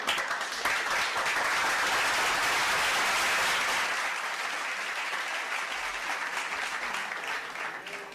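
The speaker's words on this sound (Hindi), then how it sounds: "जोरदार तालियों से स्वागत करें" Loud, sustained applause from an audience welcoming a guest at a news team's facilitation ceremony, dense clapping throughout that slowly eases toward the end.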